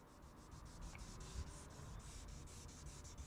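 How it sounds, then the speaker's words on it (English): Short, quick back-and-forth strokes of 1000 grit sandpaper on a block, working a run in clear coat, giving a soft, steady, rhythmic scratching rub heard close up, with no talk. "we're still trying to focus mainly on that run and try to block it down with that 1000 grit"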